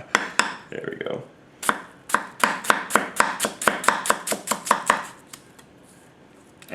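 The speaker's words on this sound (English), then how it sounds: "with the weight of this and being a taller knife, it should chop very well" A Yamashin White #1 210mm gyuto knife chops food on a cutting board in a fast, even run of sharp, close knocks, with a few slower strikes before and after, and no talking.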